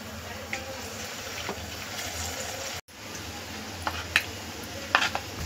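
Vadas are slipped into a kadhai of hot oil and fry with a steady close sizzle, marked by a few brief sharp splashes and clinks. One quick cut to near silence interrupts the frying partway through. Nobody speaks.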